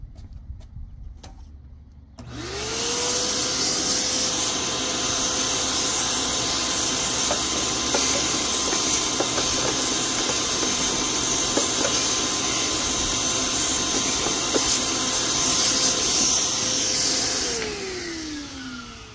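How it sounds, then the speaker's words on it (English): A shop vacuum starts up and runs steadily with a loud whining hiss while cleaning a new air filter for a 2004 Ford Explorer Sport Trac, then winds down at the end. "So let's just give that a quick vacuuming."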